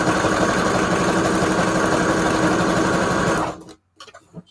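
A sewing machine stitches paper pages of a junk journal in one steady, loud, rapid mechanical run for about three and a half seconds, then stops and leaves soft handling noises.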